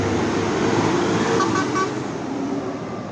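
Intercity buses on the Surabaya to Trenggalek and Tulungagung routes race through the Purabaya Bungurasih bus terminal, a loud steady roar of engines and traffic with a brief horn toot in the middle.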